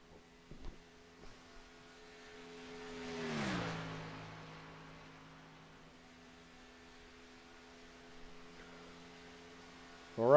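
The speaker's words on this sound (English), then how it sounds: "Greg Biffle throwback number 16 Subway car. Ford Mustang on track" Ford Mustang stock race car in a Greg Biffle throwback number 16 Subway livery lapping Talladega, a tonal engine whine that swells and drops in pitch as it passes, fading into a steady distant drone.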